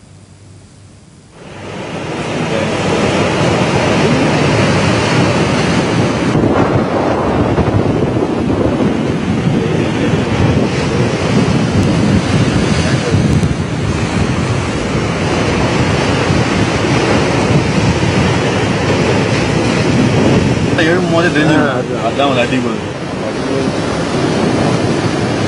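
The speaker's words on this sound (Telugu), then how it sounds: "70 కిలోమీటర్ల వేగంతో గాలులు వీస్తున్నాయి" A coastal storm brings winds of about 70 km/h over a rough sea: a loud, continuous roar of wind and crashing surf that surges and swells with no voices.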